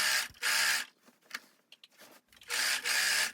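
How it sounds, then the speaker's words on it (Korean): Overlock sewing machine finishing the waist of a lace-trimmed denim dress, with two loud whirring bursts of stitching separated by soft handling clicks and fabric shuffling, close to the mic. "허리 부분에 오버록 스티치로 마무리를 해줍니다."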